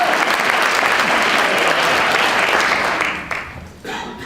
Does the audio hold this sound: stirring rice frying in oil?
no